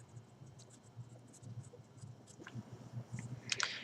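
Pen writing on paper while working through a differentiation maths problem, soft close scratching strokes in short irregular bursts, quiet and alone, growing a little busier toward the end.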